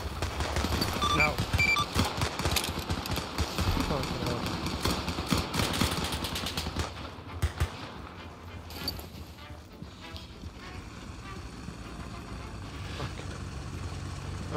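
Dense, sustained gunfire from a World War II video game set in North Africa, a chaotic barrage of rapid shots and explosions layered over engine rumble, loud and continuous, easing slightly toward the end, with a voice speaking over it.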